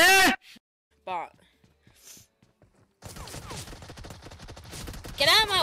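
Bursts of automatic gunfire in PUBG Mobile during a gun game match, a dense rattling volley running for a few seconds after sparse quieter moments, with a player's voice cutting in over it.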